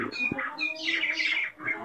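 A starling squawks and chatters in harsh, rapid bursts close by, with a few brief chirps in between.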